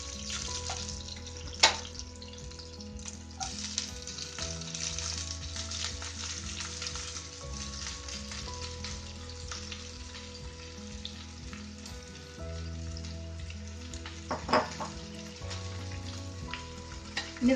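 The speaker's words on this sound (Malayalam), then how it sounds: "ഇനി നമുക്കിതിലേക്ക് ഉള്ളി ഇടാം." Onions frying in oil for a Kerala-style tomato curry, a continuous close sizzle with low bubbling, occasional clatter and a couple of sharper knocks, no talking.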